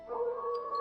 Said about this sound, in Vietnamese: Bỗng nhiên, phía xa vang lên một tiếng sói hú dài.